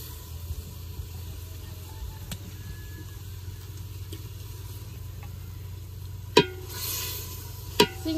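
Prawns frying in spice paste in a pan, giving a low steady sizzle with faint stirring, close but quiet, and two sharp utensil knocks toward the end.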